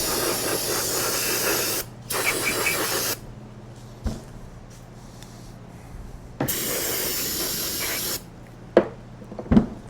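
Cleaner sprayed onto the front differential gear case of a Polaris Sportsman 700 ATV in several loud, close hissing bursts of a few seconds each, separated by quiet gaps with small clicks and taps.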